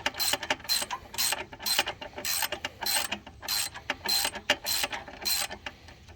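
A 3/8 ratchet clicks rapidly and steadily while loosening a bolt on a John Deere Z345M mower, its close, sharp pawl ticks repeating in quick bursts throughout without any voices.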